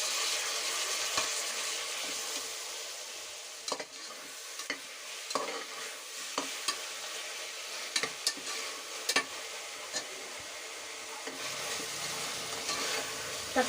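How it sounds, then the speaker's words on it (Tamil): Tomatoes sauté in a pan with ginger-garlic paste for mushroom biryani: a soft, continuous sizzle broken by irregular scraping stir strokes and a few sharper clinks of the spoon, close and fairly quiet. "நம்ம தக்காளியை சேர்த்துப்போம்."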